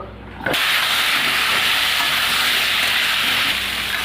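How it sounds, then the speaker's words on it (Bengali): Potatoes dropping into hot oil left over from frying fish burst into a loud, steady sizzle after a brief quiet start, the dense crackling hiss holding close and continuous to the end. "এই মাছ ভাজা তেলের উপর এই আলুগুলো ভেজে নেব।"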